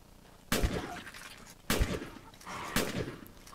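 Three heavy shotgun blasts boom in the zombie game Fort Zombie, each sharp report followed by a short decaying tail, spaced about a second apart over a low background hum.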